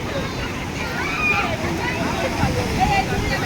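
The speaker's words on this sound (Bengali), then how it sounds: "অনেক বড় বড় ঢেউ আসছে।" Big breaking sea waves at a rainy Udaipur beach give off a continuous churning roar of surf, with voices talking faintly underneath.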